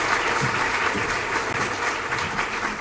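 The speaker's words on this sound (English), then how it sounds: "Can we give them a round of applause?" An audience at a spring capstone festival applauds, giving a dense, steady wash of many hands clapping at moderate volume throughout, with no speech over it.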